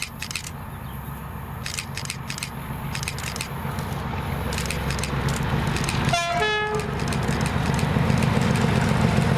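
Freight train hauled by class 37 locomotives 37219 and 37116, bound for Moss End Down Yard, rumbles past steadily and loudly with clattering wagons, a short horn blast sounding midway.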